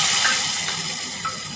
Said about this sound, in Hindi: और घी में तड़का दी है